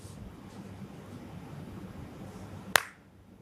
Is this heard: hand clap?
yes